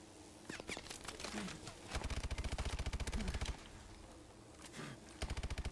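Gunfire shooting down turrets in the video game Call of Duty: Advanced Warfare, repeated rapid bursts of automatic fire, fairly quiet, with brief pauses between bursts.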